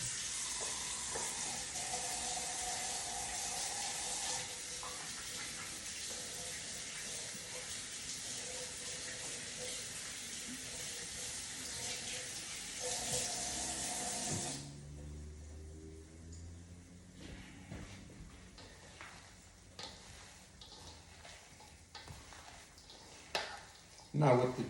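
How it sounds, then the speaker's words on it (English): A kitchen tap runs steadily for hand washing while cooking cannelloni, a broad close hiss of water that stops abruptly, followed by softer clinks and handling sounds. "I'm gonna wash my hands"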